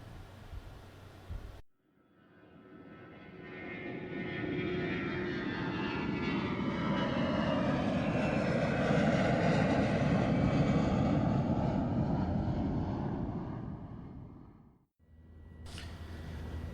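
Airplane in flight, a broad engine roar that swells in, holds loud and steady for several seconds, then cuts off, with no voices.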